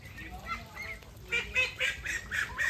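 Domestic ducks on a farm in Manikganj, Bangladesh, give a run of nasal quacks and honks, sparse at first and then a quicker burst of calls, fairly close over low background noise.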